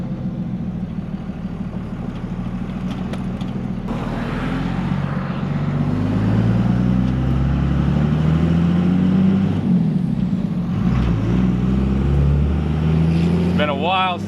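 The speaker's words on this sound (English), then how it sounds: "Been a while since I drove this truck." Manual Cummins diesel truck drives along with a loud, low engine drone that rises as it revs up through the gears and dips on a shift, with a faint squeal near the end.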